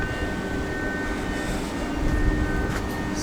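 Bernina Express train of eight to nine coaches heard from inside while running between Milan and St Moritz: a steady low rumble with faint high whine, continuous and moderately loud, with no voices.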